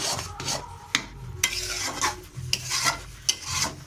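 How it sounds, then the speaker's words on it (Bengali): Chana dal sandesh mixture being stirred and scraped in a wok, with repeated rasping scrapes and sharp spatula knocks against the metal, a low sizzle running underneath throughout. "নাড়তে হবে নাড়লে কড়াইয়ের মধ্যে ধরে যাবে এই জন্য ভালো করে ঘষে ঘষে পাকটা দিতে হবে"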